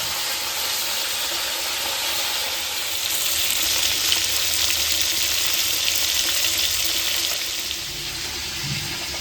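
Bhola fish frying two at a time in hot oil, a steady, dense sizzle that holds evenly throughout and swells slightly midway, with no voices.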